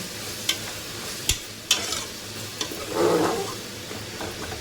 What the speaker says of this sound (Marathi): दोन चमचे गरम मसाला दोन चमचे टाकून घेतलेला असाच परतवले थोडा वेळ